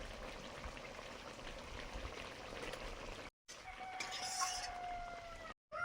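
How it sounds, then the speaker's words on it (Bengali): A sour pumpkin and potato curry with a little sugar and garam masala bubbles in a pot, giving a steady crackling, popping texture at close range with brief breaks in the sound. "টক ফুটে গেছে।"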